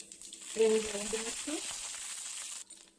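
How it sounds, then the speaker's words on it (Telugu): Cumin seeds sizzle in hot oil in a pan, giving a continuous soft hiss. A voice is briefly heard over it. "నూనె వేడయ్యాక కొద్దిగా జీలకర్ర వేసుకోవాలి."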